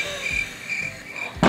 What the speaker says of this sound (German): Man hört schon das Grillengeräusch.